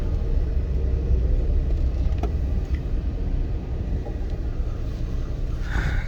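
Car driven and parked outside a court, a steady low engine rumble with wind buffeting the microphone, loud and continuous with no talking.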